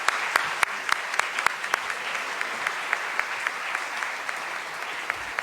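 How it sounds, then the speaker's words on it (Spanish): A lecture audience applauds a doctor after her talk on forensic science, a steady wash of clapping with a few sharp, close individual claps standing out in an irregular rhythm. "Yo les quisiera pedir un aplauso para la doctora por su excelente conferencia."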